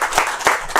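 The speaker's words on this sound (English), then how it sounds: "And a round of applause for the panelists." A crowd at the AfroCannes 2025 film event claps and applauds for the panelists, a steady dense wash of hand claps filling the brief moment.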